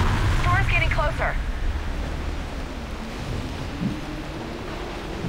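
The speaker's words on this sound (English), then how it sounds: "Storm's getting closer." In Mass Effect 3, an approaching thunderstorm rumbles as a loud, continuous low roar of wind and rain, with a brief voice-like burst near the start and a faint swell later on.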